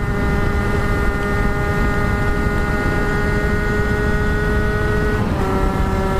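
A motorcycle running steadily, its even engine tone holding through the whole stretch with a brief dip in pitch near the end, loud and close over road rumble.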